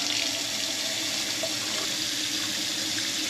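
Water gushes steadily from a newly installed kitchen sink faucet in a tiki house, a loud, continuous hissing splash close by with no talking.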